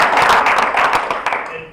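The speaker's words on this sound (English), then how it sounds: "let's give another round of applause for the candidates" An audience at a candidates' forum claps for the candidates, a dense burst of many hands applauding loudly and close, then thinning and fading out within two seconds.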